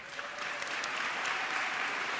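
Applause from the audience at the 2023 Miami Herald / el Nuevo Herald Silver Knight Awards ceremony: a full, sustained roar of clapping filling the hall, loud and even throughout.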